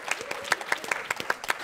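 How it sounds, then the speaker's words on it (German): Brief applause for Martin at a panel discussion: a small audience claps in distinct, fairly loud strikes that stay steady throughout, a modest group rather than a dense crowd. "Vielleicht nochmal einen kurzen Applaus für Martin"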